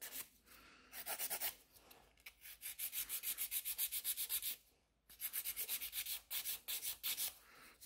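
Quick rhythmic strokes of a file smoothing black French gel nail extensions, bursts of short rasping scrapes in fast runs with brief pauses between, close and crisp, no talking.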